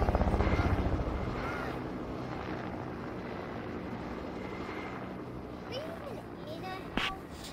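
A helicopter in the Fortnite video game hums with a steady, low rotor drone, loudest at the start and then holding evenly throughout, with brief faint sounds near the end.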